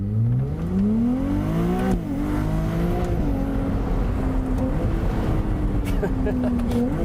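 A Ferrari 296 GTS's hybrid V6, redline 8,500 RPM, revs loudly and close, its pitch climbing in rising sweeps, dipping and then holding a steady high drone over a heavy rumble.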